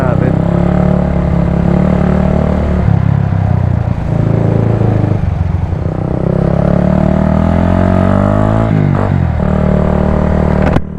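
Suzuki Raider motorcycle with its stock muffler running nearby, a loud continuous engine drone that rises and falls with revving, with a person speaking over it at times.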